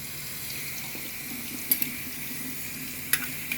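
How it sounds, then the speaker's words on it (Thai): Prepared shrimp rinsed under a running kitchen tap, a steady soft water stream with a few light splashes and clinks as the shrimp are handled, close and quiet, with no voices. "ขั้นตอนสุดท้ายเราก็จะเอามาล้างรวมกันนะ"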